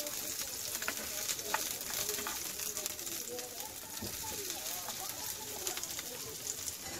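Onions frying in a little oil on a pan until golden brown, a steady close sizzle with scattered crackles and stirring scrapes, a few faint coos from doves in the background.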